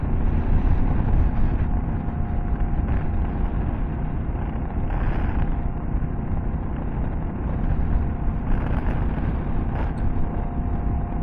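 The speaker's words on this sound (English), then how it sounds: "I don't remember hearing that tire in the back whining like that" KLR650 motorcycle riding a gravel back road, its rear tire giving a steady whine inside continuous engine and road roar with wind buffeting, loud and close for the whole stretch, no talking.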